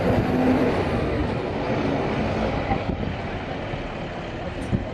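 A low floor bus passes close by at a running day, its engine a broad, loud rumble with road and wind noise.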